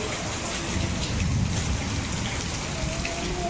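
Heavy rain pours steadily and densely, a close, continuous hiss and patter with no pauses and no voices.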